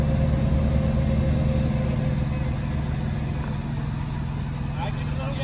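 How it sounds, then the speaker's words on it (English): A car stuck behind a house is given light, gentle throttle, its engine humming steadily and close with a low droning tone, while people talk over it. "Give it a little bit of gas, not a lot."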